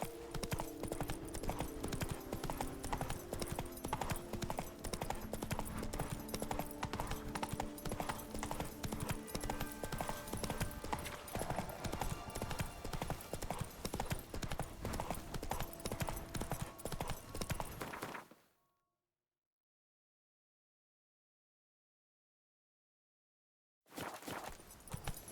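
Roach the horse galloping in The Witcher 3, a dense, continuous drumming of hooves with background music, running steadily before cutting to silence for several seconds, then resuming briefly.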